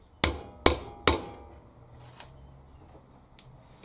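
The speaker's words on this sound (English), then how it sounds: "I'm going to tap them into a piece of timber here" Screws are tapped into a 200 by 50 timber board: three sharp, evenly spaced knocks close up, then a few fainter taps and light handling noise.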